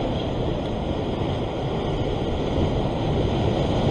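Ocean waves surge continuously from a sea fishing spot off Sydney, heard as loud, steady broadband rushing with wind buffeting the microphone and no voices.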